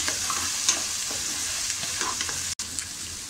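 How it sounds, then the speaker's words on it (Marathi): Tomatoes sautéing with onions on a tawa for street-style pulao, a steady loud sizzle with scraping stirs, one brief dropout near the end, no voices. "आता आपण त्यात टोमॅटो टाकूया। टोमॅटो सुद्धा 2 मिनिटं आपल्याला छान असा परतून घ्यायचा आहे"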